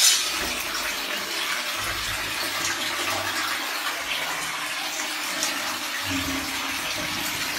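Abhisheka water from a temple rite flows through a rock cave shrine, a steady close rushing and gurgling that runs unbroken.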